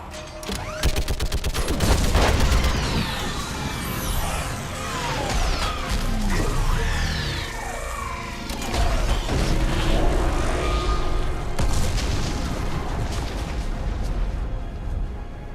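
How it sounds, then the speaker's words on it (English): Orbital strike explosions in the video game Mass Effect 3 roar continuously as a dense, loud barrage of blasts, crashes and rapid gunfire-like bursts with sweeping whooshes layered throughout. "I need an orbital strike"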